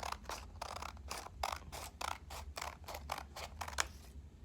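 Scissors snip through a stack of coloured paper sheets in a quiet room, cutting small half-inch pieces for quilling with about a dozen crisp, evenly spaced cuts, close and fairly soft.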